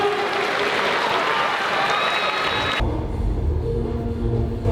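Crowd at a Black Combat mixed martial arts event applauding a fighter, with loud and dense clapping in a large hall that cuts off sharply partway through into a lower, rumbling background.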